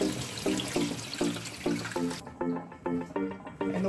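Fish for Jamaican fish tea are rinsed under a running kitchen tap in a sink, water splashing steadily with rhythmic sloshes as the pieces are rubbed, close with no talk.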